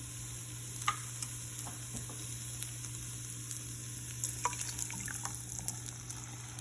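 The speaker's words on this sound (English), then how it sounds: "Nice sizzle you hear." Steady, quiet sizzling of ham and eggs frying in a pan, with occasional light clicks and scrapes over a constant low hum.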